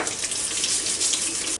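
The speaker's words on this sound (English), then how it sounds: "even though I'm going to peel them, I'm going to wash them a little bit" Sweet potatoes rinsed under a running kitchen tap, a close, steady rush of water that cuts off abruptly at the end.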